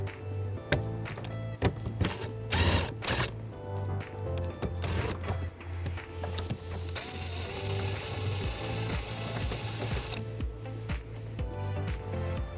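A hand ratchet loosens the last nut holding the taillight on a 2019 BMW X3 during a trailer hitch install, giving close, steady mechanical clicking with a few sharper rattles over about twelve seconds.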